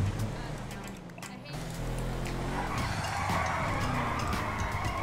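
Tires skid and squeal continuously as a Granger 3600LX SUV drifts in GTA Online, with an engine roaring steadily underneath at close range.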